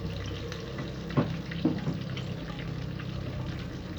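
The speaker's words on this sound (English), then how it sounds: "So while I'm frying my bake, my fish is frying also." Fish and bake frying in hot oil, a steady crackling sizzle close by with a couple of sharper pops and clinks.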